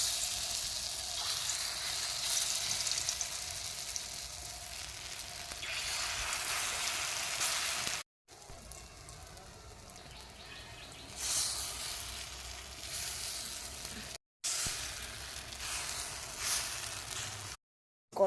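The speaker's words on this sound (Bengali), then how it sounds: "তেল গরম হয়ে গেলে তারপরে ভাজবো" Food frying in hot oil in a pan, a continuous close sizzle and hiss that swells and eases, broken by a few brief silent cuts, with no talking.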